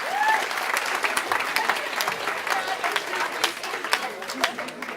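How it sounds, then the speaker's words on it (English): A school assembly audience gives a steady round of applause at a stage hypnosis show, dense clapping sustained throughout with a few cheers rising over it. "Give these people one more fantastic round of applause."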